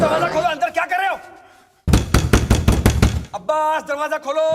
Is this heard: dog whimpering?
no